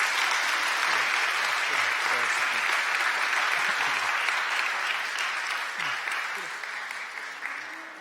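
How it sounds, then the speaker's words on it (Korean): Church congregation applauding in welcome during a Sunday service, a sustained, dense wash of clapping from a large crowd that holds steady and slowly tapers toward the end. "여러분들 축하와 환영의 박수 부탁드리겠습니다."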